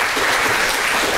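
An audience at an evening talk at the Museum of Modern Art applauds, a brief dense wash of many hands clapping at constant loudness.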